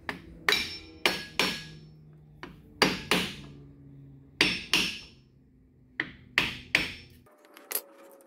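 Sharp metal hammer blows strike a stuck Club Car golf cart electric motor, coming in irregular pairs and singles, close and loud with ringing decay, followed by a softer tap at the end.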